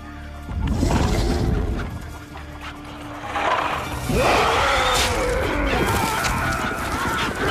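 Chickens clucking and squawking inside a truck in the film Raptor, a busy, agitated flock with honk-like calls and a crash, close and loud throughout with no speech.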